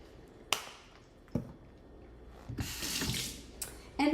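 Tap water runs into a kitchen sink as vegetables for a salad are rinsed, a steady splashing stream in the second half, broken by a few sharp knocks and clatters near the start.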